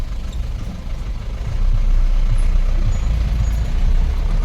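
A vehicle creeps slowly along a mountain road near Gorma village in Lahaul, where landslides are occurring; a steady low engine rumble grows louder halfway through, with no voices.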